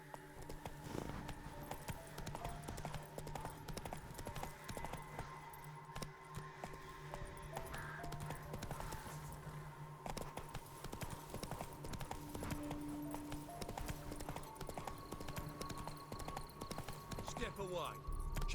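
In The Witcher 3: Wild Hunt, the horse Roach's hooves clip-clop in a steady walking rhythm, with occasional jingling tack and a soft background score, while characters talk over it.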